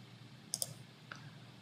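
Two quick, faint mouse clicks on a computer close together, followed by a softer third click a moment later, over a quiet room hum with no talking.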